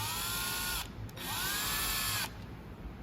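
Power drill or driver whirring in two bursts as screws are started into a blade shaft assembly, with a short pause between runs and quiet after.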